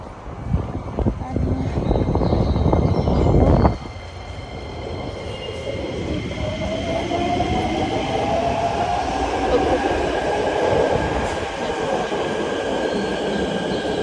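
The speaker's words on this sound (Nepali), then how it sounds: "ट्रेन आइपुग्यो अब चाहिँ म चढ्छु" A train pulls into a station in Tokyo with a loud, close rumble and rattle that gives way to a steadier hum and a long, falling electric whine as it slows.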